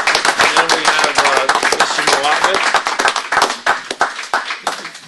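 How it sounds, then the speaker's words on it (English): Applause breaks out at a town council meeting, a dense round of clapping from the audience that thins out toward the end, with voices mixed in. "A round of applause."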